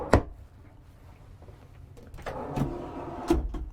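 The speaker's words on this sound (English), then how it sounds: "Nice pull-out drawers." Pull-out drawers in a luxury coach are opened and closed, giving a sharp knock at the start followed by sliding rumbles and further thuds, close and moderately loud.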